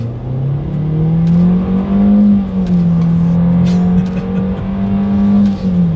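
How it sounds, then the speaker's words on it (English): A 2020 Nissan Versa accelerating from inside the cabin, a steady loud engine drone that climbs and levels off with slight pitch shifts, no speech over it. "Let's go ahead and do a quick little acceleration in the 2020 Versa, and let's see how quickly we can get this one here up to speed."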